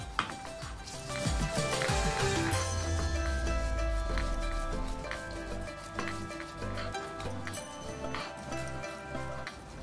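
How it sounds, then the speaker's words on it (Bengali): Onion ground into a paste for dried fish chutney, rhythmic scraping and knocking strokes repeating close by, with a faint tonal hum underneath. "এখন আমি পেঁয়াজটা বেটে নেব"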